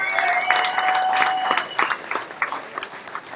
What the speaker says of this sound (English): let's give Katie and Shane a big round of applause